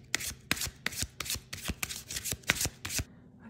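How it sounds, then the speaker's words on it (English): Close, crisp riffling of a tarot card deck being shuffled in repeated quick bursts, about eight or nine sharp flurries with brief pauses between them. "I'm just gonna shuffle."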